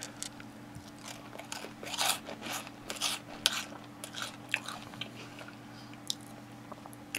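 Crunchy bites and close chewing of spicy jalapeno Cheetos Mix Ups, with loud crisp crunches and softer munching between them, and no talking.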